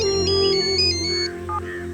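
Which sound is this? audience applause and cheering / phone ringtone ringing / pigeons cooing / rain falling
phone ringtone ringing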